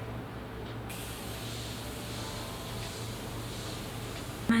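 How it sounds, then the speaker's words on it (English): A steady, fairly loud hiss of Metallic Glow setting spray in shade Rose Gold misted onto a face, starting just under a second in and running continuously to the end with no talking over it. "yeah, we're just gonna spray her down"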